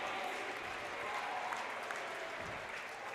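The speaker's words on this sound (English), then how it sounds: "The crowd is going wild." A crowd at a junior tennis world championship match claps steadily, producing a dense, even wash of applause throughout.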